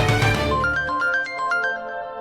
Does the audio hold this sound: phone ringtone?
yes